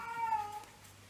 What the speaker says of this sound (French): Donc, elle miaule moins fort